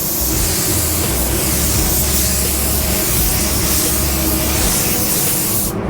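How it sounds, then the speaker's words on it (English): A continuous hissing spray runs for several seconds, steady and close, ending abruptly. "We'll get in here and spray some."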